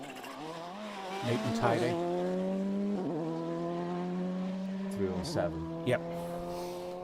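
Rally car on a tarmac stage at the Cork 20 Rally 2023, heard in the distance with its engine note rising and falling through several gear changes, while commentators talk over it.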